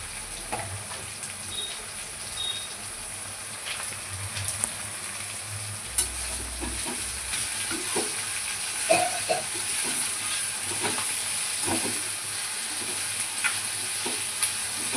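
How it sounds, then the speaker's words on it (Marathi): Onion and tomato fry with masala powder in a pan for egg bhurji. A moderate steady sizzle runs throughout, broken by scattered spatula scrapes and taps against the pan. "कांदा टमाटर छान भाजून घेऊया."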